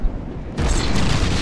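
A ship's cannon firing in the naval combat game From The Depths: a sudden loud, deep boom lands over ongoing low rumbling battle noise and is followed by a sustained roar, with no talk.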